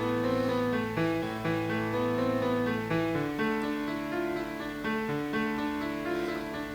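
Trap beat melody built in FL Studio 20, with layered sustained synth notes moving through a steady, slightly humanised pattern, loud and continuous throughout with no talking.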